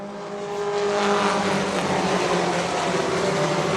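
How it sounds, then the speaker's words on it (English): Four-cylinder race cars running 105 to 110 horsepower Mazda truck engines roar around a track, a loud, sustained engine drone that swells over the first second and then holds steady at full throttle. "Takes these cars about a lap to get up to full song as they run on this little 105 to 110 horsepower Mazda truck engine"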